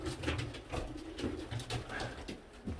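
A Modena pigeon cooing nearby in a loft, soft repeated low coos over a noisy, rustling background, fairly faint.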